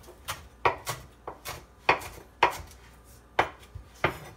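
A knife dices chives on a cutting board in sharp, uneven chops, about a dozen crisp knocks spaced irregularly, close and clear with no talking.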